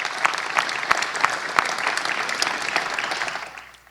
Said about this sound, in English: Please give them a great round of applause